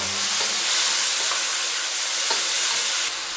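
Mushrooms stir-fry with light soy sauce in a hot pan, a loud continuous sizzle with occasional scraping stirs and small clacks of the utensil.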